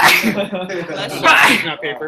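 A single sharp sneeze bursts out during a civic hackathon meeting, heard close among people talking in the room.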